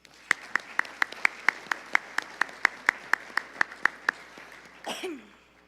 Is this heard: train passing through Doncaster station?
no